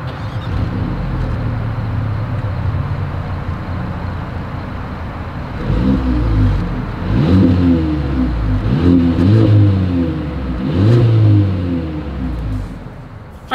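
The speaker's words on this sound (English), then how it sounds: "As always, here is that exhaust clip." Exhaust note of a 2023 Mercedes-Benz GLA 250 SUV, a low steady idle that swells into several throaty revs in the back half, each rising and falling again, close and clear with no talk.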